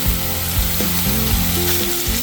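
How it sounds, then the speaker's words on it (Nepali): Dhamire mushrooms hit a pan of frying onions, producing a loud, close sizzle with a low, uneven rumbling underneath, heard alone across a brief moment. "त्यसमा चाहिँ म अब अघि केलाएर राखेको च्याउ चाहिँ हाल्दैछु,"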